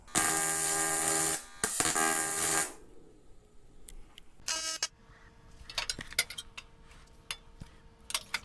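TIG welding on aluminum, a loud, steady electric buzz in two bursts over the first few seconds, then a shorter burst followed by quieter clicks and handling noises.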